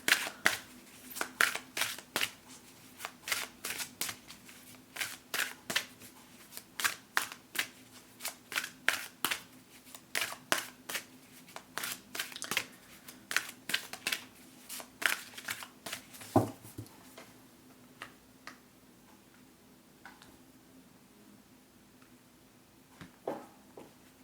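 Oracle cards being shuffled by hand for a love reading, a long run of crisp riffling bursts and soft slaps in irregular rhythm, close and clear, easing off near the end with no talk.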